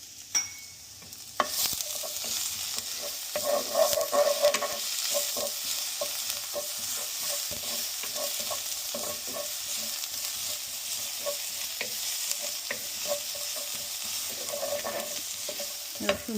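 Garlic frying in a hot pan for noodle egg drop soup, a steady sizzle with frequent stirring scrapes and clicks from a spoon throughout, close and fairly loud.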